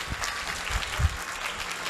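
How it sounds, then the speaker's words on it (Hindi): Audience at a school annual function applauding the teachers, a steady wash of many hands clapping at a distance, even and continuous without talk. "सभी टीचर्स के लिए जोरदार तालियां आप एक बार बजाएं।"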